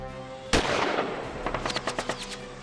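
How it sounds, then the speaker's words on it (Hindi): A sharp gunshot cracks in a street shooting in Alambagh, Lucknow, followed by a rapid burst of about a dozen shots in quick succession, loud and echoing. "गोलियों की तड़तड़ाहट से लखनऊ में आलमबाग का इलाका गूंज उठा।"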